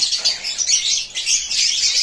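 Parrots of various color mutations kept in cages at a holiday bird sale, a dense chorus of high chirps and tweets running continuously, fairly loud and close, with no talk over it.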